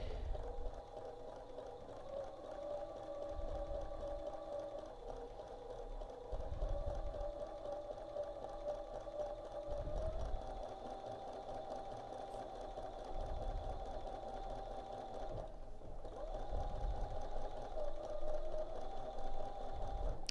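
A longarm quilting machine stitches a quilt with a steady, fast mechanical hum and needle patter that runs on without a break at moderate volume.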